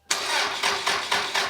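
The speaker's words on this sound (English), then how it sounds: "here's what an engine sounds like with no engine oil" A car engine running with no engine oil and zero oil pressure cranks and catches, then runs with a harsh, rhythmic pulsing roughly every quarter second, loud and close by.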